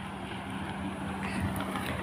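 Continuous wind buffeting the microphone outdoors on a foggy mountainside, a steady rushing roar with a low engine-like hum underneath.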